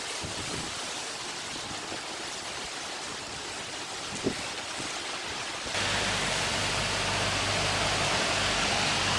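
Strong storm wind in Yogyakarta roars as a continuous broadband rush, moderately loud and steady, growing heavier and deeper in its second half, with no voices.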